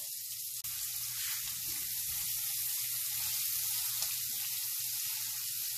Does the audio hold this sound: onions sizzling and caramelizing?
yes